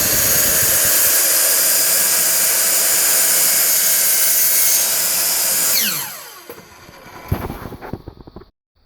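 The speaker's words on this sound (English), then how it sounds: "chop saw, I choose you" A chop saw whines loudly and steadily for several seconds while cutting a wooden dowel for a stripped J Bass guitar body, then spins down with a falling pitch, followed by a few clunks and rattles.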